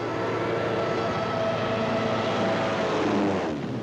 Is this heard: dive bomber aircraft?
yes